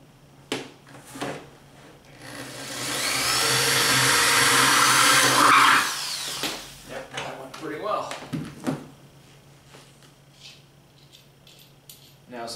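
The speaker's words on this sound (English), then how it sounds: "Now I'm just gonna drill a hole through it." A power drill whines for about three seconds as it bores through a plastic jug, with clicks and handling noises before and after.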